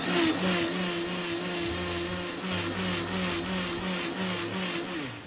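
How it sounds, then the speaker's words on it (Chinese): A kitchen blender whirs steadily, blending sugar, salt and coconut milk, its motor a constant close hum that holds at the same level from start to finish. "盖好，放上搅拌器"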